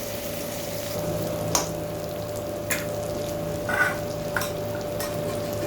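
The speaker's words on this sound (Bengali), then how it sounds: "আলুটাকে এখন ভালোভাবে ভেজে নেব।" Potatoes fry in hot oil with turmeric in a pan, making a steady, moderate sizzle with a few soft stirring clicks. No one speaks.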